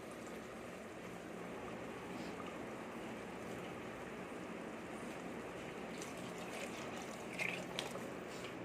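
Water poured onto two cups of rice in a pot makes a steady, quiet gushing that runs on evenly for several seconds, close but faint, with no voices.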